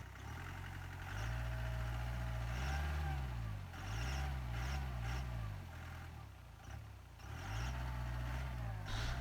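A Mahindra jeep stuck in mud on an offroad trail in Idukki-Adimali, its engine held at a steady drone and revved in repeated rising-and-falling surges, fairly close.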